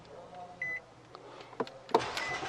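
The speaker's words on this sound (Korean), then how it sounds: "버튼 시동 딱 돼 있고 제가 딱 해서 누르면 이런 느낌" A car's push-button ignition gives a short electronic beep, followed by a few faint clicks and then a brief, louder burst as the engine cranks and catches near the end, heard close inside the cabin.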